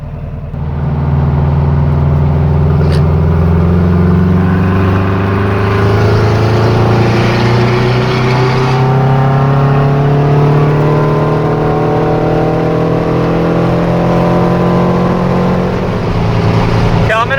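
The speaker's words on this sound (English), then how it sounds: "So let's just see what it does on the freeway at 80 miles an hour." Steady engine drone of a car fitted with 44 IDF carburetors cruising on a freeway at 80 mph, a continuous loud hum with slowly shifting tones and road noise throughout, no pauses.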